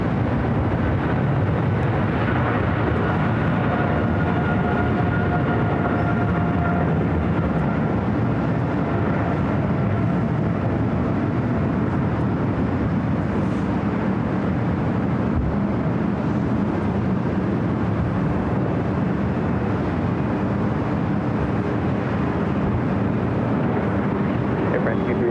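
A Boeing 777 rolls down runway 25 right at LAX for takeoff, heard as a broad, continuous jet engine roar from a distance, steady and rumbling for the whole stretch.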